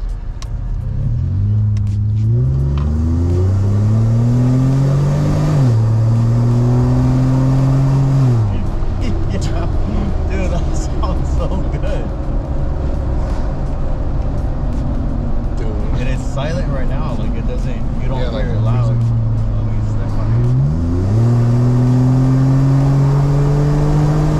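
A Chevy Colorado pickup with a MagnaFlow Overland Series aftermarket exhaust revs up through gears in repeated rising pulls, deep and rumbling, heard from inside the cab, loud and throaty, with people talking over it.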